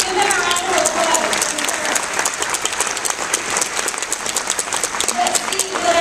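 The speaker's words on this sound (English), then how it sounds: "Give them a round of applause." A room full of people claps steadily, brisk applause with some voices murmuring and calling out underneath.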